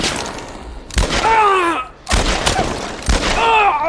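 Pistol fire in the video game The Last of Us Part 1: three loud, sharp shots spaced about a second apart, each followed by a groaning, wavering tone that trails off.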